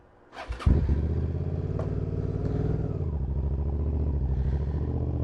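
A Suzuki SV650 motorcycle engine fires up with a sharp start, then settles into a loud, steady, throaty rumble close by, slightly rising as it pulls away.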